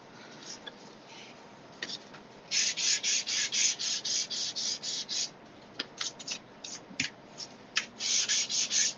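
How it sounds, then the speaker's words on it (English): An electric sander works on a small piece of wood for a gift card holder mailbox, giving repeated short bursts of harsh rasping that start and stop in uneven pulses, fairly close and loud. "Maybe my sander will work."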